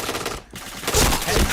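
Rapid video game gunfire in a Nobunaga Katana multiplayer match, a loud burst of shots that drops out briefly, then returns in a dense, sustained volley.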